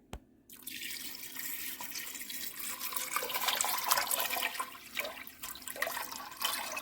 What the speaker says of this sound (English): and I'm going to cover them with some water